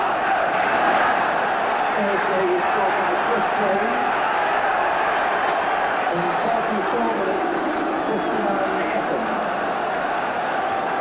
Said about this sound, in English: So now that's a happier Tottenham crowd